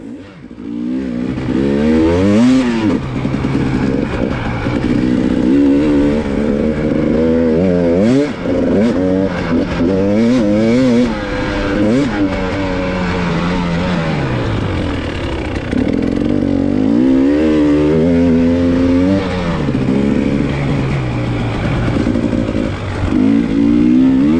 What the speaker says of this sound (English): right now the bike is running really well